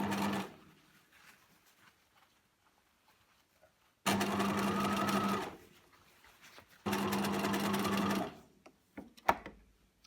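A sewing machine runs a straight stitch along the lined-up raw edges of fabric for an oversized scrunchie, in two steady bursts of several seconds each separated by quiet pauses, close and fairly soft.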